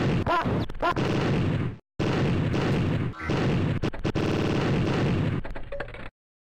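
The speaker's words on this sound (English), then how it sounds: "Hopefully y'all are not tired of the gunshot sounds yet." Gunfire from the video game Info Harry II, loud dense bursts of shots filling two stretches of about two and four seconds, separated by a brief gap, with no talk.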